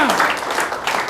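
A church congregation claps loudly for the Lord, a dense burst of many hands applauding together at full volume, with voices mixed in among the clapping.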